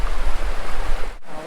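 River water rushes and burbles nearby in a steady, loud wash of turbulent flow, with a brief dip in the sound near the end.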